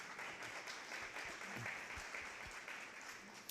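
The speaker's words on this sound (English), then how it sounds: "Let's give Jeff a round of applause" Audience at an annual meeting breaking into sustained applause, a dense steady wash of many hands clapping at moderate distance with no talk over it.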